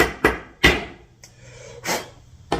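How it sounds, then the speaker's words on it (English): Shinto rasp cutting into a pallet-wood guitar neck, with several sharp, separate scraping strokes at an irregular pace, close and fairly loud, and a soft hum between them. "So I'm attempting to shape the neck, you know, with the Shinto rasp"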